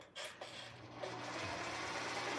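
A sewing machine runs at a steady, quiet whir as a quilt project is stitched at a beach retreat, starting after a brief pause and then humming on without a break.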